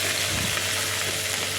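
Garlic, ginger and green chili paste sizzles in hot oil, a close, steady, dense frying hiss that runs unbroken with no voices.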